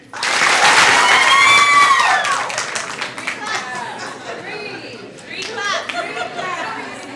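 A school board meeting audience applauds a senior football receiver honored as all-district, with a burst of clapping and crowd chatter that fades into scattered claps and a cheerful voice or two.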